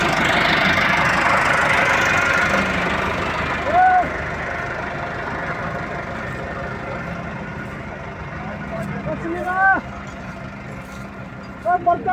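A tractor engine runs steadily while sugarcane is loaded, a continuous low rumble with a few louder knocks and clunks, and voices talk over it throughout.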